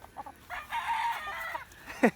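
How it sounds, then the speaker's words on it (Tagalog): A yellow-legged hatch gamefowl rooster crows once, clear and fairly near, over faint background noise with a brief sharper sound at the end. "Ito naman yung isang manok din ni Boss Longlong"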